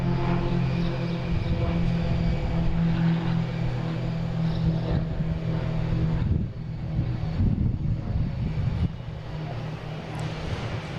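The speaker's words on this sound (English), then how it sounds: "Oh, we got a Cape Air taking off already." A Cape Air plane takes off at Boston Logan International Airport, a steady distant propeller engine drone heard over wind buffeting the microphone, with the roar shifting and fading toward the end.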